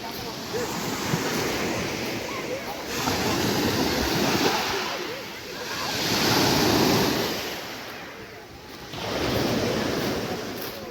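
Sea waves rolling onto a small-pebble beach at Kadırga Bay near Assos, a close, loud rush that swells and recedes in slow surges over steady wind noise.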